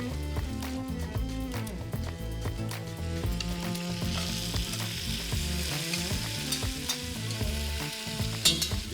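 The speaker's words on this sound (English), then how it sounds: "I'm going to sweat the funnel with the garlic and the onions" Fennel, garlic and onions sweat in a hot pan, giving a dense, continuous sizzle and crackle. A utensil stirs and clatters in it now and then, close and steady throughout.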